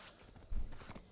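A horse's hooves in the video game Black Desert Online, a brief cluster of soft thuds and clops lasting about a second, close and faint, with no voices.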